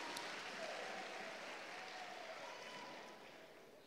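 Congregation applause at a revival church conference, a steady broad wash of clapping that holds for several seconds and then fades slightly at the end, with faint voices underneath.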